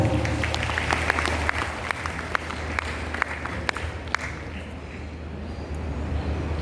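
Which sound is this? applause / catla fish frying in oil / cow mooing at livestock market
applause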